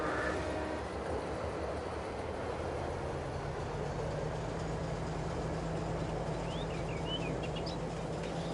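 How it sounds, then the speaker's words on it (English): A train arriving in Farming Simulator 22, a steady low rumble and rolling drone that stays even and fairly faint throughout, with a few high chirping squeals near the end. "The train's here."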